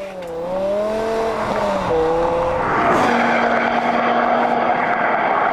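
BMW M6 Convertible engine revving hard toward 8,000 RPM, a loud climbing whine that dips at a gear change, then settles into a steady high-pitched drone with wind noise.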